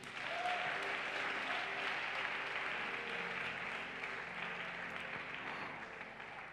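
A church congregation applauds together during a worship service, a steady, dense wash of clapping held at an even level throughout, with no one speaking over it.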